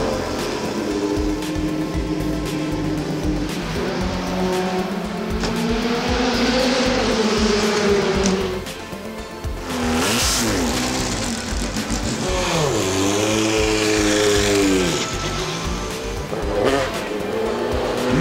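Group C race cars scream past on the Spa circuit, engines rising and falling in pitch as each car passes close by, with overlapping whines and brief tyre squeal through a sustained, loud run.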